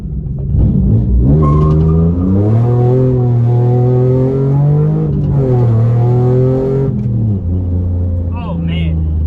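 A 3G Mitsubishi Eclipse fitted with a new torque damper accelerates hard with its tires spinning. The engine climbs loudly in pitch, drops at a shift and winds up again, close and loud throughout.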